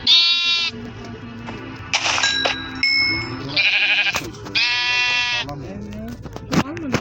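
Loud, synthetic-sounding Minecraft sheep bleats repeat in short bursts, mixed with clicks and chimes, under occasional talking.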